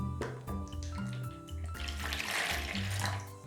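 Water, 370 grams measured out for bread roll dough, runs steadily into a bowl in a kitchen, a continuous close splashing pour with no talk over it.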